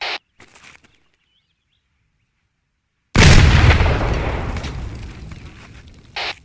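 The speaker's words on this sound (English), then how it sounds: "You should hear the fragmentation hitting the side of the wall and all that stuff." After a stretch of near silence, a frag grenade in Arma 3 goes off in one sudden, loud, sharp blast whose rumbling echo trails away over several seconds.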